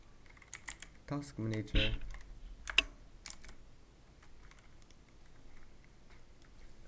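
Quick bursts of clicking keystrokes on a computer keyboard, close and crisp, with a person talking briefly over the typing.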